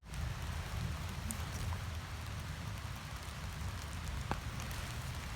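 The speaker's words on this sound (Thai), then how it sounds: "ฝนตกค่ะวันนี้" Steady rain patters on leaves and ground in a Swiss forest during mushroom picking, a constant close hiss with a few scattered louder drops and no talk.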